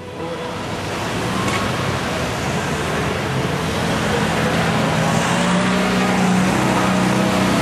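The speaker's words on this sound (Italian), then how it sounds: "Il traffico ormai alla totale paralisi." Road traffic in Rome's Talenti district, a dense steady wash of car engines and tire noise that swells slightly and stays continuous, with no voices.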